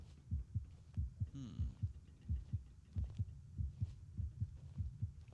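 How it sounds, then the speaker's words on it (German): Steady, heavy heartbeat throbbing in the horror video game Baby Blues Nightmare, a fast regular double-thump pulse repeating close and loud with no talk over it. "Er hat auf jeden Fall den heftigsten Herzschlag seines Lebens."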